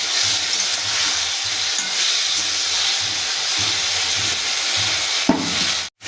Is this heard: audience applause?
no